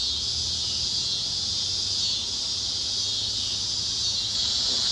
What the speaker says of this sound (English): Those crickets are noisy.